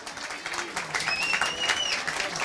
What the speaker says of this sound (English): It's a warm round of applause.